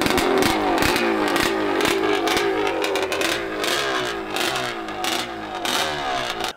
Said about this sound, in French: Au moment où je lâche l'embrayage,